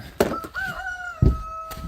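Nearby chickens clucking and calling, with a drawn-out crowing-like note and a few short clucks in quick succession.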